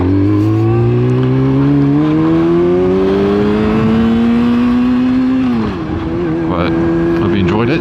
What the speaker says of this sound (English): I'm going to go through this puddle.